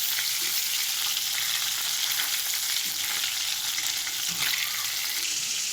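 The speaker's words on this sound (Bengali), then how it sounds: "সব মাছ আমি এরকম করে উল্টিয়ে ভেজে" Tangra fish frying in hot oil, a steady dense sizzle with faint stirring and turning clinks underneath, close and continuous throughout with no voices.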